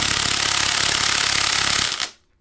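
A Milwaukee impact tool hammers on a bolt of an abandoned GM Ecotec L61 engine, giving a loud, continuous rapid rattling burst for about two seconds before cutting off abruptly into silence.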